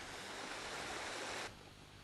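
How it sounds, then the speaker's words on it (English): Rushing river water deep in a valley, a steady broadband wash of moderate loudness with no voices, easing slightly near the end. "I love the sound of rushing water"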